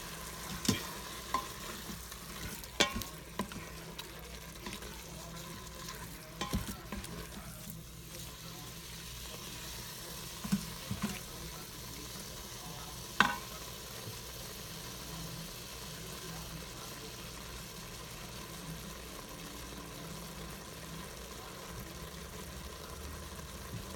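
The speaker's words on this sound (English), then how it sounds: "the first thing is browning the hamburger" Hamburger meat browning in an Instant Pot, with scattered stirring scrapes and soft sizzle at a low, steady level, a few sharper knocks against the pot, and faint talk in the background.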